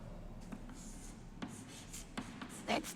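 A pen scratches across paper during a medical lesson, short strokes coming in irregular bursts, close and quiet over a faint steady background.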